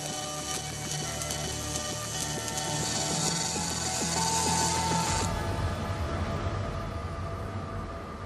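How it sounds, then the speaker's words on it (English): A Tesla factory welding robot running its program gives off a steady mechanical whir with rhythmic servo ticking and a high hiss that cuts off partway, continuous and moderately loud with no talk. "The robot works out the most efficient route and runs the program."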